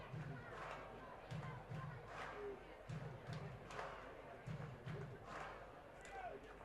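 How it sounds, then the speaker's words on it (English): Among a minor-league baseball crowd, a distant voice yells in repeated short bursts at a steady rhythm, faint under a broad ballpark murmur. "There's some sort of a heckler out there in the crowd who's just yelling things constantly."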